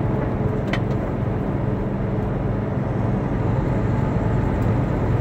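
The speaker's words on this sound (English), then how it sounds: "you guys don't have to hear the roar of my truck so loud." Truck engine droning while driving, a constant low roar with road noise that holds steady and loud throughout, no speech.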